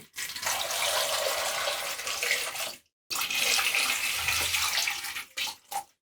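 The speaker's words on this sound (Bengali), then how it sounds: "পানি দিয়ে দিচ্ছি।" Water poured into a pot holding potatoes and eggs: a full, rushing splash that runs for nearly three seconds, breaks off briefly, then pours again before tapering into a few short spurts.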